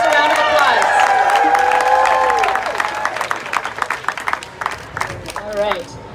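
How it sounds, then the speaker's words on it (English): A crowd at a Rhode Island abortion-rights gathering breaks into loud, dense applause with cheers and whoops. The clapping thins out after a few seconds but keeps going as scattered claps and calls. "Give yourselves a round of applause."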